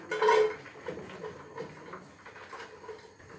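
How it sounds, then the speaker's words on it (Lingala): White cabbage dropped into a cooking pot set over a fire, with a loud clattering burst of the pot and leaves at the start, followed by softer rustling and handling noises. "Na zwi chou na nga yango na tie na nzungu."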